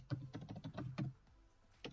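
Close, soft clicking of a computer keyboard as code is typed, a short run of keystrokes followed by a pause and one last tap.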